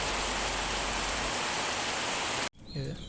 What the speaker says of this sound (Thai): บรรยากาศแบบนี้เลยฝนตกครับพี่น้อง